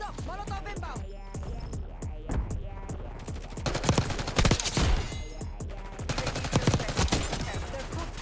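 Rapid bursts of gunfire rattle through a Black Ops 6 multiplayer match, with sharp repeated shots that cluster into dense volleys near the middle, under game announcer voices and a steady low hum.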